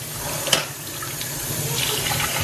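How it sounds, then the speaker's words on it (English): Hot tap water runs steadily into a sink while black denim jeans are rinsed, a continuous splashing rush with a brief sharper splash near the start and no talking. "first you rinse it in hot water"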